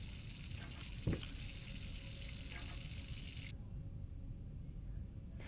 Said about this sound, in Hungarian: Kinyitom a csapot.